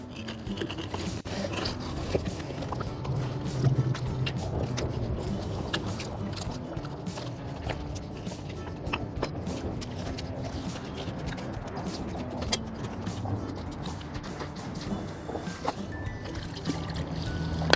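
Fast stream current rushing around a spot chosen for a small dam and gold sluice, a steady close wash of water with scattered splashes and knocks throughout.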